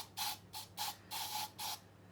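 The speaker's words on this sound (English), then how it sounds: "So I tried using aerosol-based antibacterial spray." Five short hissing bursts of aerosol antibacterial spray, close and fairly soft, with brief gaps between them and no talking.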